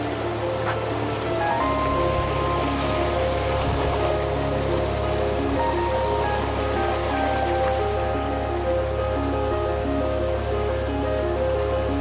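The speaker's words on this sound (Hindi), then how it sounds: "और चलते हैं अभी मैं और पर्वत जी, और आपको पटना वाटरफॉल के बारे में व्यू दिखाते हैं पटना वाटरफॉल का।" Patna waterfall in the forest near Rishikesh makes a constant, dense roar of falling water, even and unbroken throughout, with no voices.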